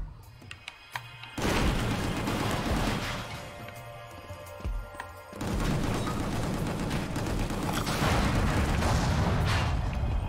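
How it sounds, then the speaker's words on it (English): Explosions in the video game Gungrave GORE, set in an Indonesian disaster area: a long, loud roaring blast and then a second heavy rumbling burst with debris-like crackle, preceded by a few quiet sharp pops. "Oh, that was an explosion."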